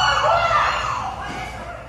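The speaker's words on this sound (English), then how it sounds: "That's the sound of workers at a Dairy Queen shrieking in horror" Workers at a Dairy Queen counter shriek in horror, a loud, sustained, harsh scream with a crowded, noisy background that fades slightly over two seconds.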